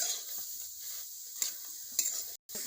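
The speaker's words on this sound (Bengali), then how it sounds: "শুকনো কড়ায় পেঁয়াজটা নেড়ে নিয়েছি" Chopped onion stirred in a dry wok for chicken biryani produces a soft, steady hiss, with a few sharp scrapes of a spatula against the metal pan and a brief gap of silence near the end.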